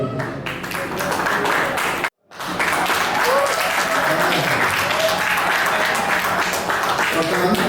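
Loud, sustained applause from wedding guests at a church wedding fills the space, cut by a brief silent gap, with voices mixed into the dense clapping.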